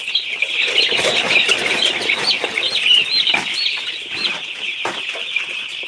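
Eight-day-old broiler chicks from a hatchery chirp constantly in a high, busy chorus, close and loud, with occasional wing flaps and scuffling among the flock.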